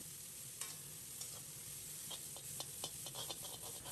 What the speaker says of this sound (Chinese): 放入南瓜藤，开大火在锅中煸炒2分钟